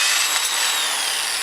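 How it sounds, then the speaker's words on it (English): A drill bit run back through a hole in copper to clear folded-over burrs, a brief steady high whirring and scraping at close range with no talk. "run the drill bit through there again to clean the hole out"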